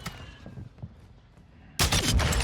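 Iron-sight sniper rifle shots in a video game, a sudden loud burst of sharp, dense gunfire after a quieter stretch of faint game noise.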